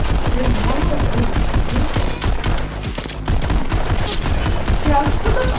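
Rapid bursts of gunfire from the VR shooting game Pistol Whip, dense crackling volleys that pause briefly midway before resuming, loud and close with little else audible.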